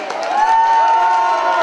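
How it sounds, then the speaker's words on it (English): A crowd at a stage dance event in Inverclyde cheers loudly with whoops and clapping, a close, steady roar of voices lasting under two seconds. "A big cheer for Lauren from Inverclyde Leisure."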